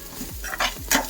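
Watermelon seeds and spices roasting in a pan on the stove for a fish curry paste, with soft sizzling and a few quick stirring scrapes, close and moderately quiet.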